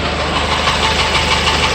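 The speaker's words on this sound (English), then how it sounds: "So you can hear it does have an engine noise. It sounds pretty loud." Loud, steady engine noise from a 2011 Ford Escape XLS, a continuous droning idle with a knocking, vibrating undertone, close up and alone for the whole stretch.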